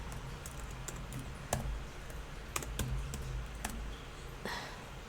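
Typing on a computer keyboard during a Russian-learning live stream, with scattered clicks and key taps over low background hum, some keystrokes sharper and louder than others.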